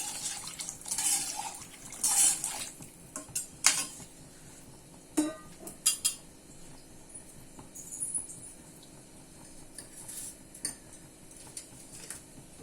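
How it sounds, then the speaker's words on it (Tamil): Water splashes and trickles into a metal pot of stingray fish curry in short bursts, with light clinks of metal and a few sharp knocks, close and fairly quiet. "இதுக்கு தேவையான கொஞ்சம் தண்ணி ஊற்றணும்."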